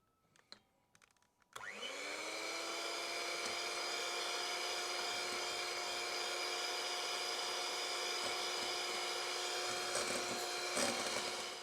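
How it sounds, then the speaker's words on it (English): An electric mixer whisks egg yolks with white sugar, starting abruptly and then holding a steady, close, continuous whine for about ten seconds with no talking. "add in our sugar. We've got 200 grams of white sugar and continuously whisk the egg yolks"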